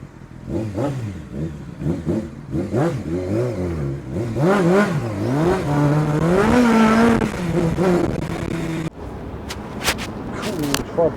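A motorcycle engine revs in repeated rising and falling surges for about nine seconds, loud and close, before cutting off abruptly, followed by a few short, sharp sounds.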